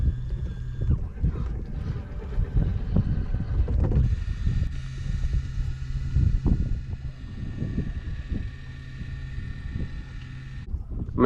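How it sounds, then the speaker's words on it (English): A Minn Kota trolling motor deploys on a fishing boat with a low mechanical rumble and whirring over wind buffeting, steady and close, with faint clunks as it settles. "So now we're gonna deploy motor."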